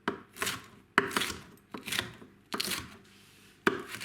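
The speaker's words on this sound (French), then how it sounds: "Et ensuite, je les redécoupe en petits morceaux." A knife chops vegetables into small pieces on a board for a gluten-free pizza, five distinct, sharp, close chops at uneven intervals, each followed by a brief rustle, no voices.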